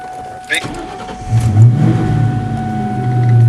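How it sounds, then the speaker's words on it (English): A car engine starts and settles into a low, steady idle, heard up close inside the vehicle, with a voice speaking over the start. "so let's turn the car on"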